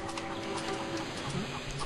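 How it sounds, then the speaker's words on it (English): Several chickens cluck and squawk in The Curse of Monkey Island, a busy layered clucking running through the short stretch with no talk over it. "Chickens are starting to freak me out."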